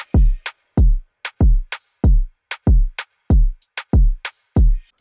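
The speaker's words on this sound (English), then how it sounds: "all the drums together sound like this" A drum beat programmed in FL Studio, with punchy kick and snare hits in a steady, sparse groove plus light hi-hat ticks, loud and dry with no voices.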